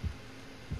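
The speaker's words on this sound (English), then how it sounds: "My heart beating, bro." Two deep, muffled heartbeat thumps sound in the Dead by Daylight video game, one at the start and one near the end, with a low hum between them.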